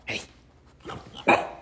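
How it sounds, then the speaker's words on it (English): Three short dog barks sound close by, spaced unevenly, with the final one the loudest. "Chloe, why are we barking?"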